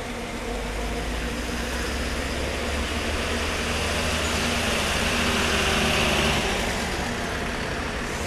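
Bus engine idling at the Ciamis bus terminal, a steady low rumble that stays loud and unbroken throughout.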